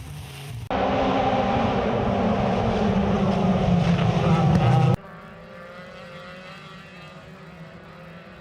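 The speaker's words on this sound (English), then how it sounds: "Oh, and a huge crash." Race car in a motorsport event crashing heavily after losing grip on grass, a loud, dense roar of engine and impact noise lasting several seconds that cuts off abruptly into quieter crowd and track ambience.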